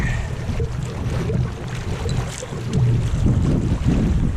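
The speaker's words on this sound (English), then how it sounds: "a little bit of fast-moving water" A canoe glides over fast-moving river water in the Delaware Water Gap, with a steady low rush of water and wind buffeting the microphone throughout, fairly close and continuous with no talking.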